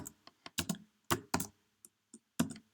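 Short bursts of computer keyboard typing, a handful of quiet, crisp key taps in an uneven rhythm with brief pauses between them.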